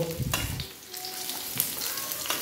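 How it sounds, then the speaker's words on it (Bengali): Pointed gourd sizzles steadily in hot oil, with a soft scrape of stirring near the start; close and continuous, no talking. "আমি আস্তে আস্তে এটাকে ভাজবো"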